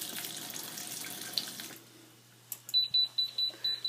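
Lukewarm water running from a tap fed by a tankless electric heater, a steady soft hiss that stops partway through, followed by a series of short, loud electronic beeps from the heater unit.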